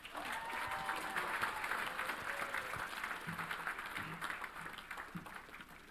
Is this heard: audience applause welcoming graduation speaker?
yes